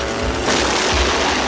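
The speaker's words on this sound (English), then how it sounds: "I've been waiting for an excuse to fire my mutation torpedo." A cartoon mutation torpedo fires with a loud, broadband whooshing blast that swells about a third of the way in and rumbles on steadily to the end.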